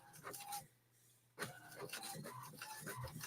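A printer running mid-job gives off rasping, rubbing mechanical passes with a short pause partway through, fairly quiet and close, while people talk faintly in the background.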